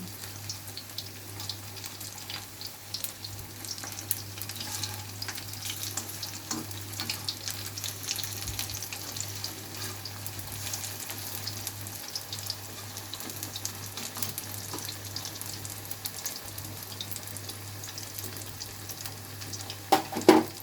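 Prawn fritters frying in hot oil, a constant soft sizzle and bubbling that stays even throughout, close but fairly quiet, with a couple of brief knocks near the end.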